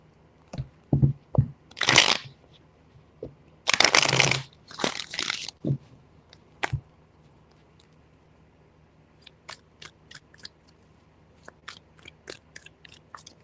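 Tarot cards are shuffled in several quick bursts of riffling and slapping, close and crisp, followed by lighter taps and card handling, with no talking.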